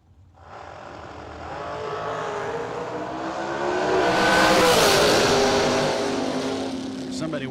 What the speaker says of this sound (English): Somebody whacking the throttle down there.